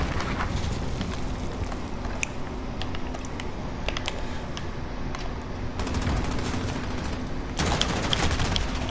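Rapid gunfire rattles in a video game, with dense fast bursts of shots clattering continuously and growing louder near the end.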